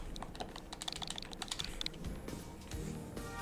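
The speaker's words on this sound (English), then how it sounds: "Fastest typing I've ever done with controller." Rapid clicking and tapping of buttons on a game controller used for fast typing, dense continuous clatter, close and steady with no talk.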